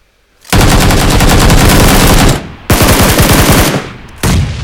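Loud, close automatic gunfire from PUBG PC Lite, two long sustained bursts separated by a short pause, then a third burst starting at the end, with no talk over it.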